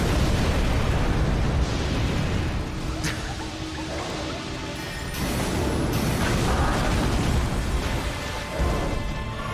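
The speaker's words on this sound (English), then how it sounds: "Lava spray!" In a modded Elden Ring battle, the Burning Rancor weapon art sprays lava in a loud roaring gush of bursts and crackling blasts, with whooshes and impacts layered throughout.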